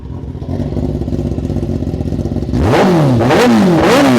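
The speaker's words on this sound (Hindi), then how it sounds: "इसकी भी पहले आप आवाज़ सुन लो। इसमें ओरिजिनल SC का एग्जॉस्ट लगा हुआ है" Kawasaki Ninja ZX-10R with an SC Project under-seat exhaust, first idling with a steady close throbbing rumble, then blipped into several sharp, loud revs that rise and fall quickly.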